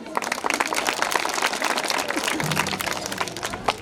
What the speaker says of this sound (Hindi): वानखेड़े साहब के लिए भी जोरदार तालियां बजाइए।